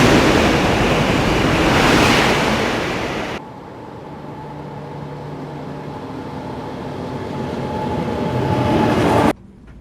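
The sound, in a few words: high-speed SRT train passing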